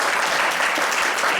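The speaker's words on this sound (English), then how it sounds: "Pat really likes the applause, so don't hold out on him" A live improv game show audience clapping at an opening night, a loud, dense, even burst of applause that holds steady for the whole moment.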